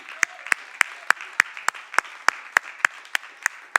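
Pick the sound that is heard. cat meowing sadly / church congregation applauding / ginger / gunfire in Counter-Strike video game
church congregation applauding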